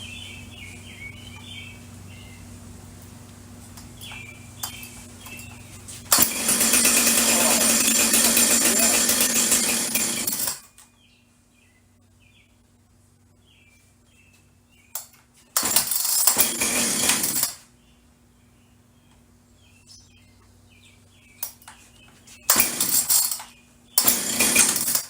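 Husqvarna 455 Rancher chainsaw with a newly replaced carburetor starting up: three loud bursts of engine running separated by quiet gaps where birds chirp faintly in the background.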